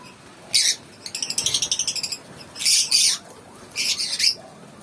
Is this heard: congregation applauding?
no